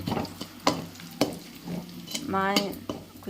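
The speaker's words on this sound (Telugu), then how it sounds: "ఆనియన్స్ కరివేపాకు వేసి బాగా వేయించుకోవాలి" Onions and curry leaves fry in a pan for a chicken curry, a soft sizzle broken by several sharp scrapes and clinks of a spoon stirring, close and fairly quiet.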